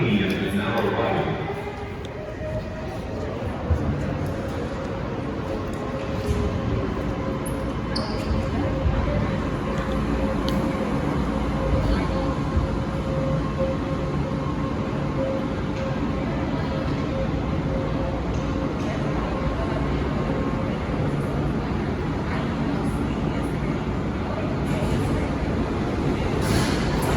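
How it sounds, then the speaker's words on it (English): A steady low rumble of an airport tram rolling in and drawing closer, with a voice speaking over it throughout. "And here comes the tram."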